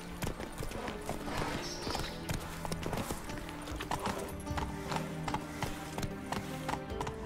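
Hooves of the horse Roach clip-clop steadily in The Witcher 3, a busy rhythmic trot under game music and ambience, with occasional faint voices.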